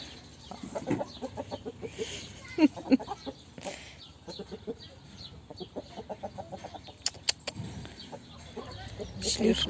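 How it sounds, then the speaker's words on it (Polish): A rooster in a Turkish village clucks and calls at a moderate distance while people talk nearby, with scattered short bird sounds through the scene. "Jest kogut."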